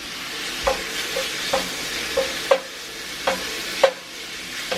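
Pork sizzles in a cast iron pan with a constant close hiss, broken by a series of evenly spaced utensil taps and scrapes.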